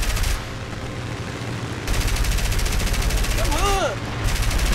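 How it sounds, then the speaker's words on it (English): Rapid machine-gun fire from the four guns of an I-15WR biplane in War Thunder, a dense continuous rattle in two long bursts over engine drone, with a brief shouted exclamation from a player partway through. "I've got four machine guns. How am I not hitting them?"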